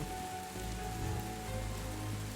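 Steady rain patters densely on surfaces, a continuous close hiss with soft droplet texture and no voices, serving as an ambient weather effect in a fantasy tabletop role-play story.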